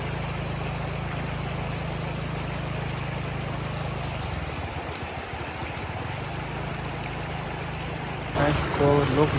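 Floodwater streams steadily across a road between Karbi Anglong border and Hojai district, a continuous broad rushing wash with a low rumble, joined near the end by a louder splashing surge.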